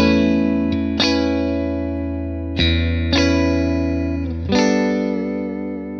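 Clean electric guitar chords ring out one after another, each swelling into a wide, lingering reverb tail that slowly fades.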